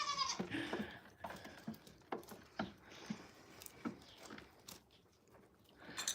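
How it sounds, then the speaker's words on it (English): A farm goat bleats in short bursts amid scattered crunching and chewing-like noises, fairly close, with no talk. "The goat is just being crazy."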